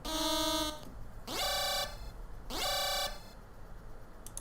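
A synthetic alarm effect layered into a homemade song sounds as three loud electronic blasts: a steady buzzing tone, then two rising siren sweeps that each hold a harsh tone, with short gaps between them.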